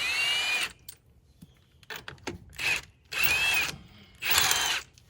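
A power wrench fitted with a 19 mm socket loosens a wheel nut on a junkyard wheel, firing in several loud, close whirring bursts with brief quiet gaps between them.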